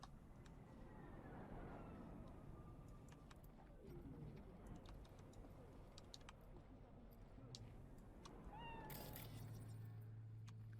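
A cat in Cyberpunk 2077 gives a faint drawn-out meow, with a second brief call near the end, low in level beneath a soft ambient game background.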